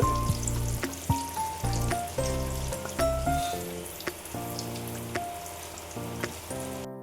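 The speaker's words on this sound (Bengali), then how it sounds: "কালার করে ভেজে নিলাম দেখো একদম ফুলের মতো দেখতে" Food frying in hot oil until coloured makes a continuous sizzle with scattered crackles and pops, close and moderately loud, lasting about seven seconds with slight rises and dips in level.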